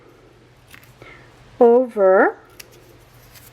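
Scissors snip through paper for a craft, two close, crisp cuts in quick succession, with a brief word spoken just after.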